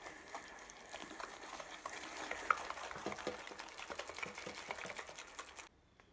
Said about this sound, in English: You're gonna wanna give this a good stir.